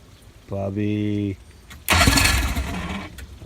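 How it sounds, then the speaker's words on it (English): A 1960s fiberglass Arkansas Traveler boat's engine cranks with a short whining starter, pauses, then fires on the first turn of the key into a loud, rough, sustained running roar. "Fired on the first hit of the key"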